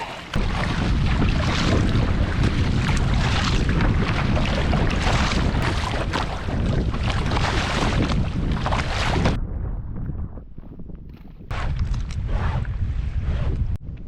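Paddling out to sea off a beach, with water rushing past the hull and heavy wind buffeting close to the microphone. The noise stays constant, dips briefly, then returns, with no talking.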